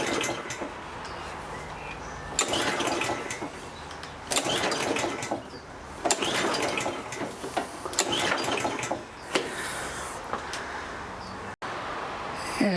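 A flooded, hard-to-start Kawasaki lawn mower engine cranks repeatedly in long pull-start bursts, each a rough churning run that fails to catch, separated by brief pauses.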